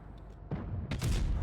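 Tank cannon fire from a tier 9 Conqueror in WoT Blitz: a sharp blast followed moments later by a louder, heavier boom over low background rumble.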